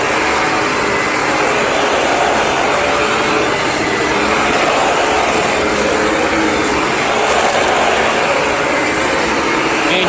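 A Hoover WindTunnel vacuum cleaner with a shorting light runs steadily and loudly throughout, a dense broadband motor whine and airflow roar with no pauses or talk.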